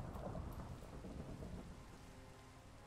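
Minecraft thunder from a lightning strike rolls as a deep, sustained rumble over steady falling rain, fairly faint and with no talking.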